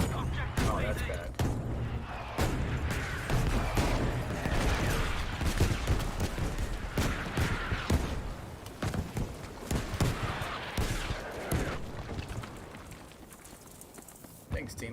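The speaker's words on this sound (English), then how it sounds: "Thanks, teammates, for artillery firing on my area." Artillery fire in Battlefield V rains down as a dense run of sharp booming blasts, loud and close, hitting in rapid irregular succession and slowly tapering.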